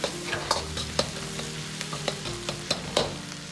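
Hot chili sauce being stir-fried in a wok makes a close sizzle broken by regular scraping spatula strokes about every half second, with no voices.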